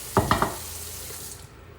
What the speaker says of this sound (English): Dump the water out.